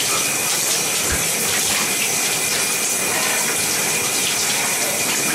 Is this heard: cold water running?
yes